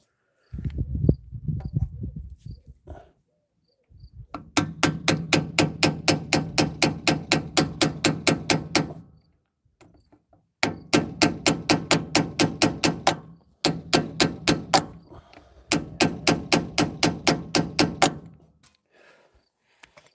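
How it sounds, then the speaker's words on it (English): A hammer taps against the rear axle of a 2004–2008 Ford F150 during differential bearing and seal work, in long runs of rapid, evenly spaced metallic strikes separated by short pauses, loud and close. "Got my hammer here."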